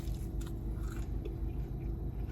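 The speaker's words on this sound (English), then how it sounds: "you heard that crunch?" Close, quiet crunching and chewing of Wendy's fast food such as chicken nuggets, with a few soft bites over a low background hum.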